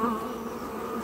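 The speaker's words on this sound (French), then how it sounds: "parce qu'il y a beaucoup d'abeilles" Honeybees buzzing around an open beehive while a beekeeper inserts a wax foundation frame, a dense continuous close-up hum of many bees.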